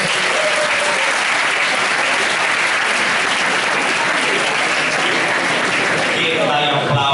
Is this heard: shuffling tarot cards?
no